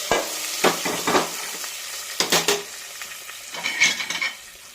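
Mustard seeds tempering in hot oil with dried red chillies and curry leaves for a Kerala curry, giving several sharp bursts of sizzle and crackle with spoon and pan clatter in between, close and fairly loud.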